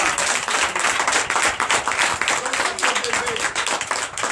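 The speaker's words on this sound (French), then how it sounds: "Donnez l'acclamation à Seigneur." A church congregation at a Sunday worship service in Comè, Benin, applauds the Lord with rapid, pulsing hand claps that beat in a fast, uneven rhythm under voices for about four seconds.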